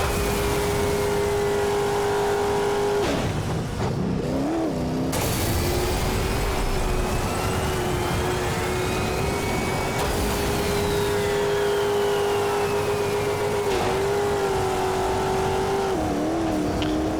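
Racing trucks in MotorStorm roar along at steady high revs, a loud sustained engine drone with brief dips and shifts as the trucks ease off and accelerate again, with no talk over it.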